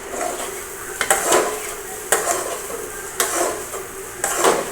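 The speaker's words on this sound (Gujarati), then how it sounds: "તેને સારી રીતે હલાવી લઈશું" Poha being stirred in a pan for a Surat-style dish with green chillies, giving a spoon scraping and clinking against the metal about every second, close and clear with no talk.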